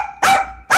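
A dog barks twice, close and loud, with two sharp broadband yaps separated by a short pause and no voices over them.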